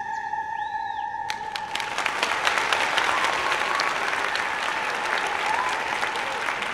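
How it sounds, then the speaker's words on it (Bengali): Sustained applause fills a large hall as a sound effect in a Bengali horror audio drama, rising after a fading tone and holding as a dense, steady clatter of many hands with a faint crowd murmur. "প্রবল করতালি এবং সমবেত জনতার তীব্র গুঞ্জন প্রতিধ্বনিত হতে থাকল সেই সুবিশাল হলঘরের প্রতিটি দেওয়াল জুড়ে"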